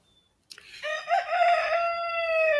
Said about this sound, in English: That's my rooster, Big Rooster.